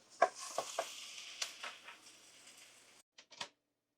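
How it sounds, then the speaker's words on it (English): Vegetables stir-fried in a no-oil pan until charred, with soft sizzling and several sharp scrapes and clinks of a utensil against the pan, close and fairly quiet, cutting out abruptly near the end. "And you just continue stir, and you will see the veggies will get charred."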